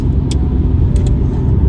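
Road car interior drone while driving, a steady low engine and road rumble running throughout with a couple of brief high clicks, no talking.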